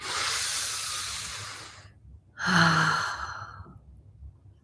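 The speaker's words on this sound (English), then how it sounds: "let's take a deep breath in. Exhale out." Slow, deep breaths during a calming yin yoga session: a long, airy inhale, a short pause, then a fuller exhale that fades away, heard close and alone.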